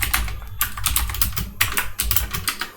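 Rapid, dense typing on a computer keyboard while coding a JavaScript solution, continuous clacking with short pauses, close and fairly loud, no voice.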